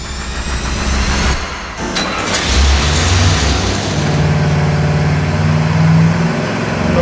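A Chevy 350 V8 fitted with Flowtech headers runs on an engine dyno, roaring loudly and continuously. Its rough, raspy exhaust tone climbs as the revs rise under load.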